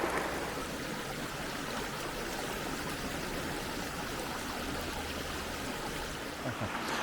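A small cascade in a brook pours and rushes continuously, a steady broadband wash of flowing water heard close and alone with no voices.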